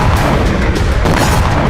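A loud, continuous rumble of bombing in residential areas of Belgorod, with overlapping heavy booms merging into a dense roar and a couple of stronger blasts standing out, no voices.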